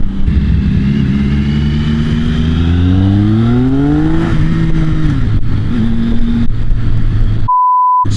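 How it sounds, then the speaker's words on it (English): A Triumph Speed Triple motorcycle engine revs up, rising in pitch with a throaty exhaust growl and a distinctive triple whine, then settles back, loud and close throughout, before a short electronic beep at the end. "You still get that nice distinctive triple whine, but that exhaust note is just a little bit throatier on the Speed Triple"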